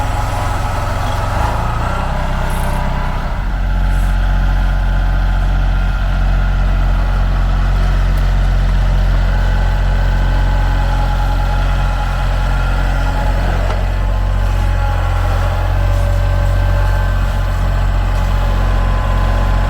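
A compact tractor engine idles steadily while holding a full tote of ash on rotating pallet forks, a loud, continuous low rumble with no talking.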